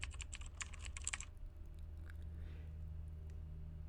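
Quick bursts of typing on a computer keyboard while filling cells in a Google Sheets budget tracker, a dense flurry of clicks in the first second or so, then only a low steady hum.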